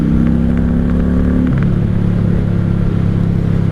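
A 1995 Honda Shadow VLX 600 V-twin cruising in fourth gear, a loud close low rumble that dips as the revs fall midway, then settles into a steady throb under wind noise.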